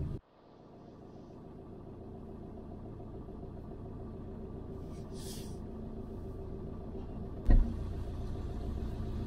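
A car engine hums steadily at low speed as the car pulls into a spot to turn around. It starts after a brief drop, then holds an even idle-like drone, with a sharp thump near the end.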